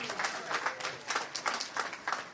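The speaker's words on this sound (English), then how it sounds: "Let's give a round of applause for Sportsman." A bowling crowd applauds the host venue at a UBA tour stop in Schenectady, New York, producing a fairly faint, steady patter of many hands clapping over about two seconds.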